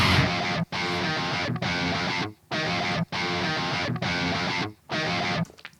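Dense electric guitar riff cut into repeating chunks, with abrupt gaps between segments giving a choppy, looped rhythm; loud and steady, no voices.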